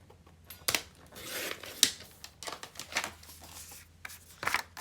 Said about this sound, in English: And cut that piece out.